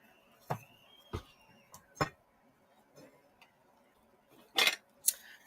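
Small metal baking pans, including little fish-shaped pans and a miniature springform pan, are handled, giving a series of sharp, irregular clinks and clatters, quiet between the hits, ending in two louder rattles.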